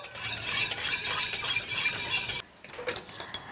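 Durian pancake batter is stirred in a bowl, a close rhythmic scraping and swishing that runs continuously, pauses briefly, then resumes with a few lighter strokes.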